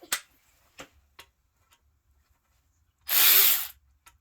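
A cordless battery-powered ratchet spins nuts off a vehicle in a garage: a few faint clicks and taps, then one loud whirring burst of about a second from close by, with no talk.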